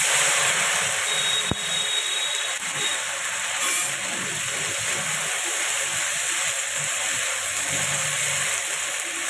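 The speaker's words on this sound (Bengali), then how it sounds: "প্রথমে ঢেঁড়সটাকে একটু ভেজে নেব" Okra frying in hot oil with a little turmeric in a kadhai, giving a steady, loud broadband sizzle and crackle that runs unbroken throughout with no talking.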